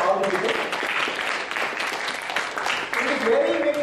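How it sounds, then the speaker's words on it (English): Audience applause at an event, a crowd clapping steadily throughout, moderately loud with some voices mixed in. "let's give a big round of applause to all the people"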